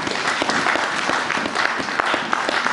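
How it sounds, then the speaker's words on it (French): A church congregation claps steadily together, a dense, loud applause that stays even from start to finish with no talk over it. "On acclame pour la parole de Dieu."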